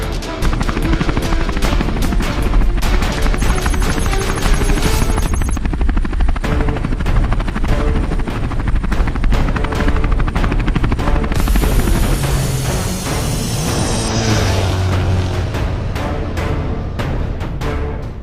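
A loud helicopter roar with rapid rotor chop runs continuously throughout, joined by whooshing swells and busy cartoon-style action effects.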